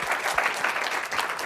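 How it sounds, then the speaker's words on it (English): Brief burst of audience applause at a Florida Wildlife Corridor summit, a dense steady clapping from a crowd that fills the whole moment. "Applause for her."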